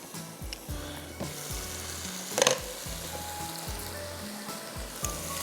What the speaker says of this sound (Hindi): मैं टोमेटो पेस्ट डाल रही हूँ, 1 टेबलस्पून हीट।